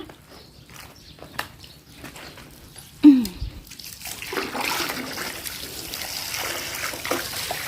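An opened tap lets water run, starting with a sharp splash and settling into a steady trickling rush that carries on to the end, following a stretch of quiet background clatter.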